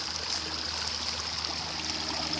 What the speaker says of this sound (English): now it's a waterfall